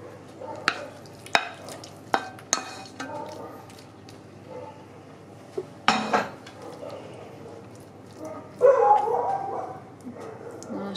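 Dogs bark outside through an open window of a country house while dishes and cutlery clatter in a kitchen nearby, with sharp intermittent knocks and clinks spread across the scene and a denser burst near the end, no speech.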